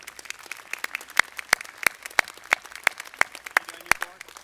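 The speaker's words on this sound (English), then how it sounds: "Let's give him a round of applause." Scattered, crisp clapping for the governor at a state address, individual sharp claps ringing out irregularly over a thinner background of applause.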